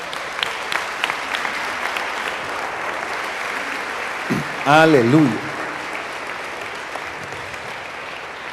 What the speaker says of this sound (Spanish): El que lo crea, dele un aplauso al Señor